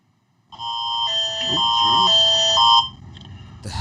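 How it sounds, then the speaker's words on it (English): An Amber Alert emergency tone blares loud and close for about two seconds, a harsh buzzing pair of pitched tones that shift in a repeating pattern before cutting off. "Have an Amber Alert going off."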